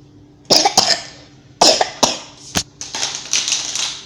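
A person coughs several times in sharp, separated bursts, with a few quieter rasping coughs near the end, close to the microphone in a quiet room.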